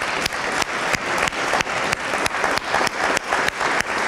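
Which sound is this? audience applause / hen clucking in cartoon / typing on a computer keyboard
audience applause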